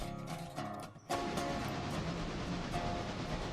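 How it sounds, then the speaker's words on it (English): A train rolls past in the railroad video game Trackside: Railroader, a steady loud rumble with rail clatter that swells abruptly after a second and holds, with faint tonal horn-like notes over it. "Well, that's my train coming through Cowie there."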